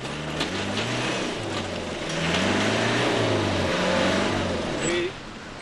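Land Rover Discovery engines rev hard during a Camel Trophy competition in the Mundo Maya region, a steady, loud mid-pitched drone that climbs and falls, with a voice talking over it.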